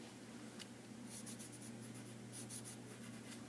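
A red colored pencil scratches across paper while drawing a box, giving soft repeated strokes in short bursts over a constant low background hum, with no talking.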